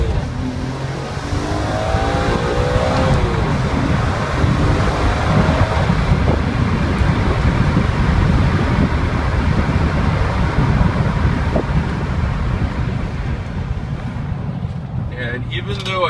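A BMW E46 M3 pulls away hard after a downshift into first, its engine note rising under heavy wind and road rush that swamps the cabin throughout, loud and steady from start to finish.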